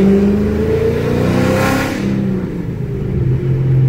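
A Dodge Charger fitted with 5-inch exhaust tips revs up and settles back, its steady engine note swelling loudly midway then easing to a lower rumble, close and alone with no talking.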